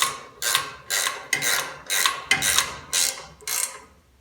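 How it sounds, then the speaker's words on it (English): Ratcheting wrench clicking while installing a transmission cooler on a 1953 pickup, eight steady bursts of rapid ratchet clicks about half a second apart, close and clear with no voices. "Love these ratcheting wrenches."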